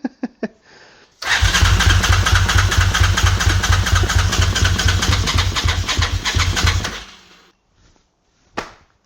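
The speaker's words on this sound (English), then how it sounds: "This thing is making shotgun sounds and I can't continue to try and tweak things without it going bang, bang, bang, bang, bang" Suzuki TL1000R motorcycle engine revving loudly and unevenly for several seconds, with a rapid rhythmic train of sharp bangs and pops like backfires, then cutting out to near silence.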